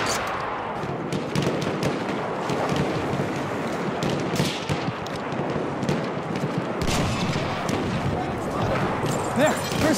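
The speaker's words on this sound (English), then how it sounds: "That's an enemy machine gun!" Enemy machine gun firing in Battlefield 1, a World War I shooter: continuous loud gunfire and booming blasts blend into a dense battle din, with shouting voices heard over the combat.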